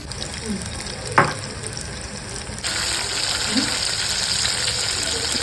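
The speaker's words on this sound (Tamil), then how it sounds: "நம்ம அந்த கடாயில் போட்டு எண்ணெய் சூடாகணும் வறுத்துக்குவோம்" Marinated chicken frying in hot oil in a kadai, giving a steady hiss that grows louder midway, with a single sharp clatter near the start.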